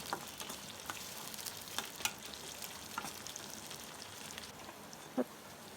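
A spice paste for a broiler chicken roast fries in a pan, a faint, even crackling sizzle with scattered soft stirring taps and one sharper knock near the end.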